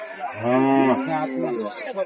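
A Sahiwal bull calf at a livestock market in Joypurhat gives a loud, drawn-out moo close by that trails into a lower second call, with faint crowd chatter behind.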